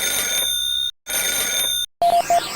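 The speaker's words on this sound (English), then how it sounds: "Téléphone." Telephone ringing in the 1994 video game Gus Goes to Cyberopolis: two long electronic bell rings separated by short silences, then a different chirping, warbling tone, close and loud with no talk.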